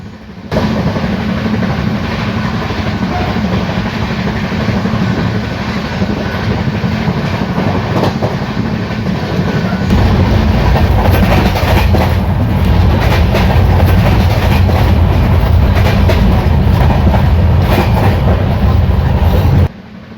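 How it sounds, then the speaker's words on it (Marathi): Devagiri Express 17057 passenger train running at high speed on rails between Parbhani and Basar, a steady loud rumble with rhythmic clickety-clack of wheels, growing heavier about halfway through, with no voices. "काय जबरदस्त स्पीडने आपली ट्रेन चालत आहे सध्या"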